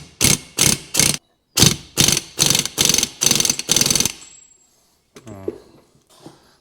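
A torque wrench ratchets in a run of loud, close clicking bursts while tightening a bolt on a restored BMW 210mm differential, followed by quieter mechanical clicks and a faint metallic rattle after a pause.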